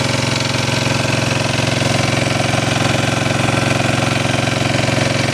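A generator engine runs steadily close by, its loud, even drone and rhythmic mechanical chugging holding constant throughout with no talk.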